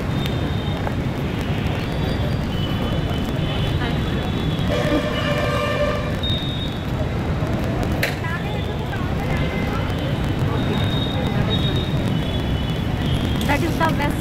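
A metro train passes near Ameerpet shopping streets, its rumble steady under continuous traffic noise and busy street ambience, with a brief brake or wheel squeal partway through.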